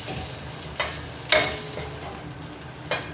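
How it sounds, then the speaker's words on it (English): Ginger, shallots and garlic sauté in oil in a wok for prawn noodles, with a steady sizzle punctuated by three or four sharp spatula scrapes and tosses, close up and without talk. "saute until fragrant"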